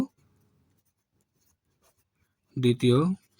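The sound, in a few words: writing a math solution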